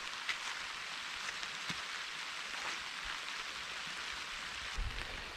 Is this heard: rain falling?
yes